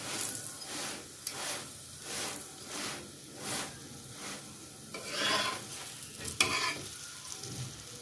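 Square layered paratha cooking in a butter-greased pan, with a soft steady sizzle and rhythmic scraping strokes repeating about every half second, a louder hiss swelling midway.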